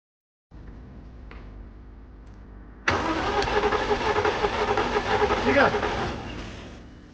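Car engine cranking over on the starter during a cylinder compression test. A low steady hum gives way to loud, continuous churning cranking from about the third second that runs to the end without the engine firing up.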